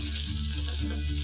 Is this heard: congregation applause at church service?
no